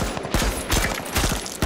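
Gunfire in H1Z1 on PS4: several quick, sharp shots arrive in short clusters, loud and fairly close.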